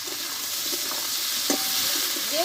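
Onion greens and slit green chillies frying with onions in a pan, a soft steady sizzle with faint stirring scrapes, quiet and close, no voices.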